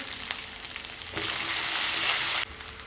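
Garlic and chilli spice paste frying in a pan over low heat for a potato dish, stirred by hand; a close, bright sizzle swells loudly for about a second before settling back, with no talking.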